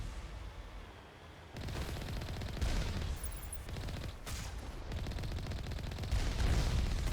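Dense, loud bursts of gunfire and rocket blasts in a Mass Effect Legendary Edition firefight, rapid shots and explosions overlapping almost continuously and building in intensity, with no voices.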